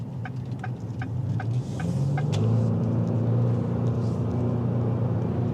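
Engine of a 2025 Lincoln Nautilus Reserve AWD heard from inside the cabin while driving, a steady low rumble that swells and rises slightly in pitch partway through as the vehicle accelerates, with no talking.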